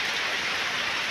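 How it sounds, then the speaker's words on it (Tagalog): Heavy rain during a super typhoon in a coastal barangay, a dense, steady hiss of downpour with no voices. "Napaka lakas ng ulan at ang buong paligid ay napakulimlim."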